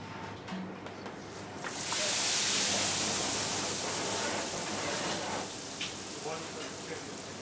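Batter-dipped fish drops into a chip shop fryer and the oil erupts into a loud, steady hissing sizzle, building up after a quieter start and continuing unbroken.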